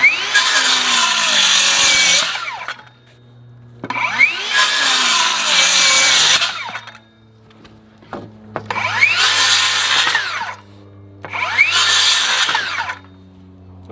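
A cordless circular saw cuts through a wooden 2x4 four times, each cut a loud whining burst of two to three seconds separated by short pauses.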